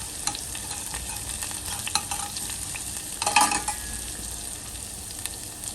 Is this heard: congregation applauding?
no